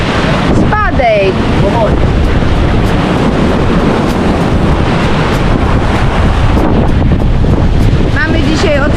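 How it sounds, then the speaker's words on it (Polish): Strong wind roars across the microphone while rough Atlantic Ocean waves crash and churn continuously in the Exumas, with a few faint voices calling out in the gusts. "Mamy dzisiaj ocean rozszalały, mocny wiatr."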